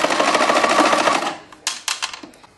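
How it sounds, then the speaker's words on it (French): A sewing machine runs a short seam on a piped vest along a white marked line, a loud close whirring burst lasting over a second, then stopping, followed by a few sharp clicks and taps. "on fait une petite piqûre le long du trait blanc"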